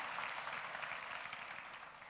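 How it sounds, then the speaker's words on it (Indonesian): A church congregation claps together during a sermon, producing a dense, even wash of many hands, steady and fairly distant with no clear break. "Beri tepuk tangan yang meriah."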